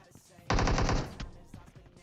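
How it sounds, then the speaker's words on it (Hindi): Loud burst of automatic gunfire from a PUBG Mobile match, a rapid run of shots lasting about half a second, then quieter game ambience with faint background noise. "उधर मेरा टीममेट ऊपर जाता है, 4 गोली चलाता है"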